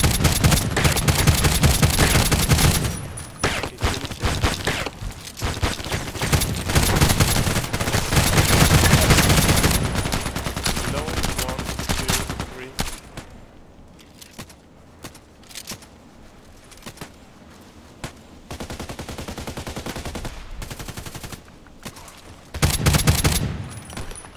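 Sustained automatic gunfire from an HK G36C rifle in the Contract Wars video game, loud, dense bursts with brief pauses and a quieter stretch midway before firing resumes.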